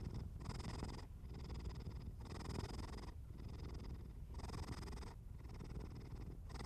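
A cat purrs softly and steadily, the rhythmic rumble swelling and easing with each breath in about six regular cycles, close and alone with no voices.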